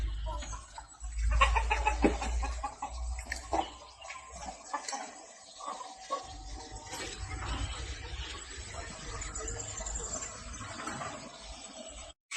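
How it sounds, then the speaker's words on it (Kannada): Native country chickens on a small farm cluck and call at close range, with irregular bursts and a few louder calls over steady outdoor background noise, and no talking. "ನಾಟಿ ಕೋಳಿ ಒಂದು 100 ನಾಟಿ ಕೋಳಿ ಸಾಕೊಂಡಿದ್ದೀನಿ"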